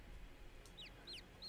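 Chickens cluck in Summer in Mara, a video game: a few short, high squawking calls over soft background ambience, quiet and somewhat distant.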